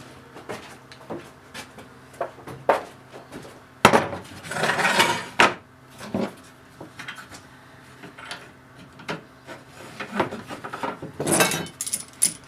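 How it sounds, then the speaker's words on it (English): Bent metal step-ladder parts are straightened with vice grips and pliers, giving sporadic metallic clinks, scrapes and clanks, with a couple of louder bursts of handling noise between quieter taps. "so I'm going to try to straighten those out with a couple of vice grips and pliers."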